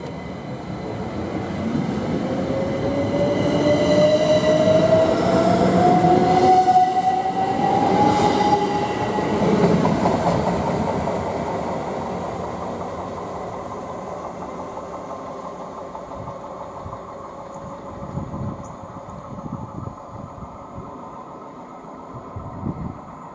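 Class 387 electric unit 387155 departing Goring & Streatley on the Great Western Main Line: a loud rising electric traction whine and rumble as the train pulls away, then wheel noise fading into the distance.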